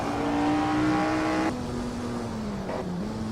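A racing car engine in the video game Assetto Corsa, at Goodwood, drones steadily at high revs, pitch shifting with each gear change, sounding synthetic and continuous.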